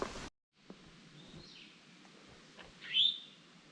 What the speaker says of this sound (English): Not sure if you can see it on camera, but there's a bird singing.